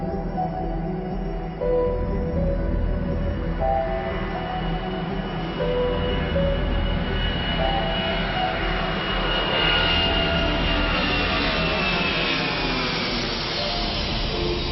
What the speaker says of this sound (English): The United Airlines DC-10 leaves Denver bound for Chicago and Philadelphia